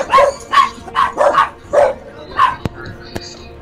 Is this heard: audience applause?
no